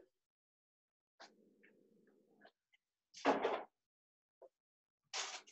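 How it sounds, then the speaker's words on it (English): Knocks on a wooden surface come in a few separate bursts, each a short cluster of raps, with quiet pauses between. "I was just knocking on wood"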